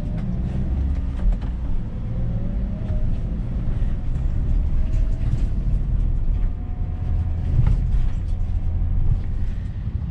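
An Isuzu vehicle's engine rumbles past in road traffic, heard from inside a car as a steady, loud low drone that swells and fades over about ten seconds.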